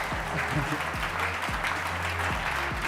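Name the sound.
audience applause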